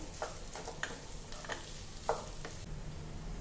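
Boiled, finely chopped potato is mixed and fried in a pan for a fasting-day thali, with a soft, steady sizzle under light scraping strokes of the spoon, close and fairly quiet, with nobody speaking.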